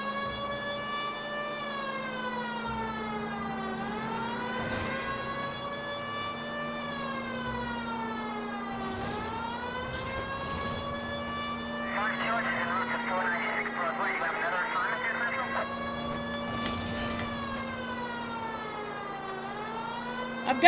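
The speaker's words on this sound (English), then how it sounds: "Turn on the siren." Police car siren from the video game L.A. Noire wails continuously in rising and falling sweeps, loud and close, with a steady engine-like drone beneath it and a brief burst of noisy sound midway.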